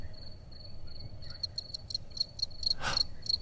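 A cricket chirps by rubbing its wings together, a run of short, sharp, evenly spaced pulses close by over a quiet background, with one louder burst near the end.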